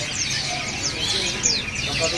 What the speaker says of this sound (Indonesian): di sini juga ada burung kenari loper